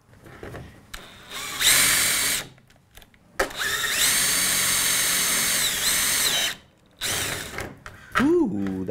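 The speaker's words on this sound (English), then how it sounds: "Next, we're gonna drill these holes out." A power drill drilling holes in a homemade Mazda Miata cowl panel whines in several loud, close bursts of varying length, the longest spinning steadily for a few seconds, with short pauses between.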